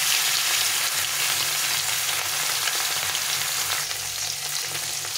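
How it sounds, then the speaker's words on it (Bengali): Catla fish pieces frying in hot oil give a loud, steady sizzle that crackles without a break from start to finish. No one speaks. "ভালো করে ভেজে নিতে হবে।"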